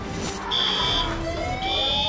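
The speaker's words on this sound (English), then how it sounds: "When the fire alarm sounds." A restaurant kitchen fire alarm blares in two long, steady high-pitched tones with a short gap between them, loud over a noisy background.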